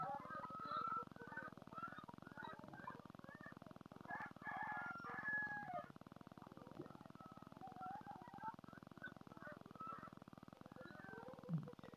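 Roosters crowing in a chicken enclosure on a poultry farm, a few faint crows and clucks over a low steady hum, with no one speaking.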